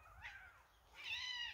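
Cats on a farm meow in two separate drawn-out calls, a shorter cry followed by a louder, higher wail, fairly close and with no talk over them.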